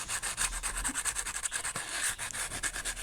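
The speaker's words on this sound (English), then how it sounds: "I'm going to sand these" Handmade air dry clay bowls being sanded by hand, a steady scratchy rubbing that repeats in quick strokes for the whole stretch, close up and fairly quiet with no talking.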